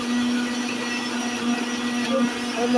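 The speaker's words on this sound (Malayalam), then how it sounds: "നമ്മൾ മിക്സി ഓണാക്കാൻ പോവാണ് കേട്ടോ നമ്മൾ ഓണാക്കി" An electric mixer grinder (mixie) whirs steadily and loudly, grinding fried papad with salt into a chutney, its motor holding a constant high-pitched drone throughout.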